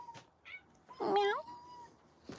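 A cat gives a few short meows outdoors, soft and close, with one longer, clearer mew in the middle and brief quiet gaps between calls.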